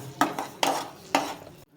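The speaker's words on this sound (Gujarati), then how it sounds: "ખાંડને આપણે હલાવીને મિક્સ કરી લઈશું" Sugar being stirred into semolina sheera in a pan, with three distinct scraping spoon strokes against the metal, close and moderately loud, before a brief quiet ending.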